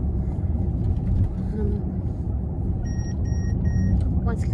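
A car's collision warning gives three short, evenly spaced electronic beeps over steady road rumble inside the moving vehicle, while people talk throughout.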